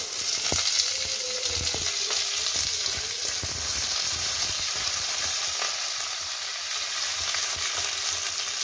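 Chopped potatoes and chana dal fry in hot oil, a steady close sizzle with occasional stirring scrapes and clinks of a spoon against the pan throughout.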